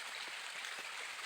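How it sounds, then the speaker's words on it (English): Steady rain falls in a dark jungle, a constant wash of hiss with soft scattered drops across the whole short stretch, with no talk. "the rain is also busy falling"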